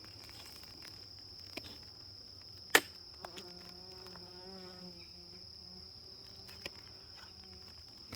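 Honeybees at a tended beehive, faint buzzing and a few insect drones passing near, with a sharp click or tap partway through and quiet outdoor background.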